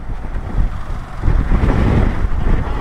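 Strong gusting wind buffets the microphone while riding a motorcycle on a long road trip toward Srinagar, a loud, low rumbling roar that surges and swells throughout, with no voices.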